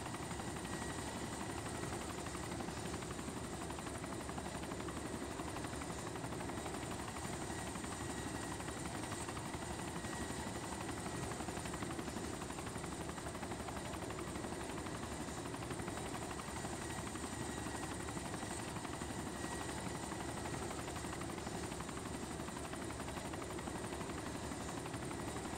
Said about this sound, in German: der Heli da oben